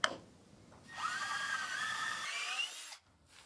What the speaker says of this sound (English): I can then drill a 1-inch hole,